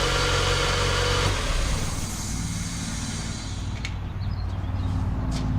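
A Mazda Miata engine with its fuel fuse pulled runs with a steady, close mid-pitched drone, and its note shifts and roughens partway through as it falters toward a stall.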